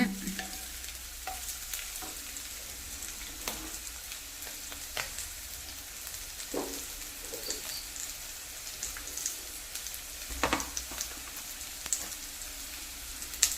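Curry leaves frying in a pan, a steady low sizzle with intermittent stirring clicks and scrapes scattered across the stretch, moderately quiet and without talk.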